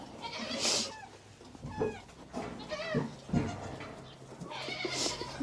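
Nigerian goats bleating, several loud nasal calls spaced across the clip with quieter bleats between, close by with no talking.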